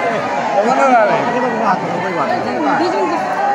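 Large crowd at the Barsana Radharani temple during Holi, a dense close babble of many voices talking at once, steady and fairly loud.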